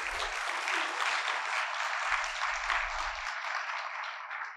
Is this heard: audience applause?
yes